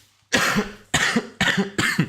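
Four harsh coughs in quick succession, loud and close, after a brief quiet start.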